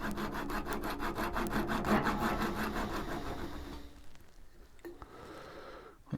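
A hand saw cuts through wood in a close, steady rhythm of back-and-forth rasping strokes for about four seconds, then stops, leaving quieter handling and a few faint knocks.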